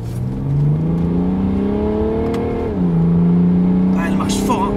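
A car engine winds up hard, pitch climbing, drops with a gear change, then climbs again; loud and close, with a brief voice near the end.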